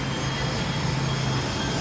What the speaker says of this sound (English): I'm going to wait for this airplane to go by.